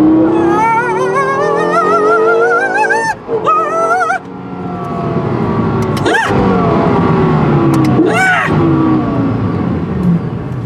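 A 2012 Lexus LFA engine revving hard with rising and falling pitch sweeps, sharp gear-change breaks, loud and close throughout.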